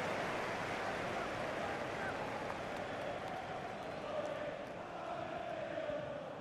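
A roaring stadium crowd in the FIFA 20 football game during a Premier League match between Liverpool and Crystal Palace, heard as a broad, continuous wash of cheering that stays fairly faint and even throughout.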